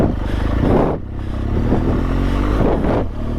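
A motorcycle engine rumbles and revs loud and close on an adventure dirt trail, with rough mechanical clatter and pitch changes as the throttle rises and falls. It continues for a few seconds with no voices.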